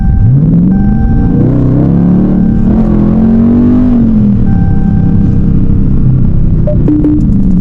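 A Dodge Scat Pack with the 392 engine, set in sport mode, revs hard and loud up close, its deep rumble climbing and holding before easing off, followed by a second brief blip near the end.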